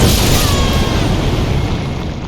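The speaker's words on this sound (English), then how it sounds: "Now be warned, there's exploding stones." Exploding stones in Elden Ring go off as a loud, dense blast rumble that fills the moment and slowly tails off, with no voices.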